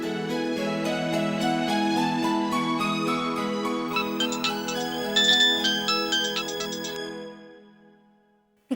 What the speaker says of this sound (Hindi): सूर्या का फोन